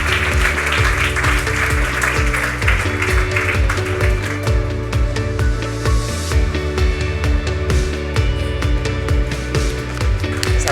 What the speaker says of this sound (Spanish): Gracias por ese aplauso